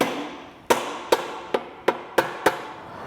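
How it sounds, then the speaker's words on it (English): Sharp metal taps strike as a chisel or flat blade screwdriver is driven behind a rusty belt cover tab on a Vespa GTV scooter, six crisp knocks spaced unevenly, close and clear with no talking. "Use a little chisel or a flat blade screwdriver to get behind the tab."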